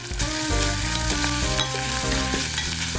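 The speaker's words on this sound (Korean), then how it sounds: "달궈진 냄비에 차돌을 넣고 달달 볶아준 다음 된장, 참기름, 고춧가루를 넣어 함께 볶아줍니다" Beef brisket stir-frying in a hot pot with doenjang, sesame oil and chili powder, giving a loud, steady sizzle with scraping stir strokes throughout.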